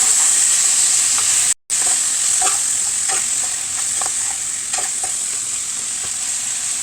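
A lemon and tamarind mixture with chopped pieces being stirred in a hot pan gives a steady hissing sizzle with soft, repeated scraping strokes, cut by one brief total dropout early on.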